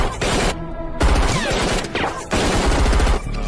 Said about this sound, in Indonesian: Mendengar suara tembakan, Mayor Singh segera bergerak dan baku tembak pun terjadi lagi.